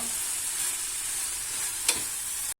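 Nettle filling for mini brioches cooks in a pan, giving a brief, steady hiss of frying with one sharp scrape of the spoon near the end.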